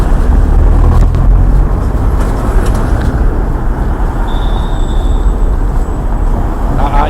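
Heavy street traffic in a busy tourist area, with many cars passing in a continuous loud roar of engines and tyres, a broadband wash that swells and eases without pause.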